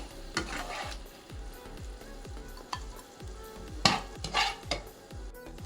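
Chicken frying in hot oil over a medium flame, a constant close sizzle broken by spatula scrapes and a few metallic clinks against the pan as the pieces are lifted out, with no voices.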